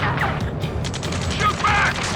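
Gunfire in the video game Ace Combat 7 during a ground battle near a gantry crane: rapid crackling bursts and clattering shots under shouted voices, close and busy.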